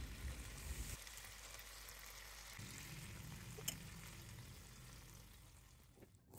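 Chicken satay maranggi grilling after a basting of sweet soy sauce and oil gives off a quiet, even sizzling hiss that runs steadily throughout, with a faint tap near the middle.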